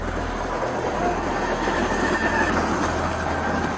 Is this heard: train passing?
yes